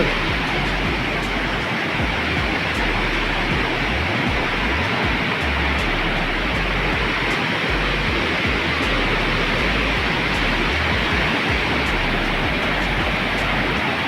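The swollen Satluj river in Punjab, running high after water was released, makes a loud, continuous, broadband roar of rushing water that stays steady and unbroken the whole time.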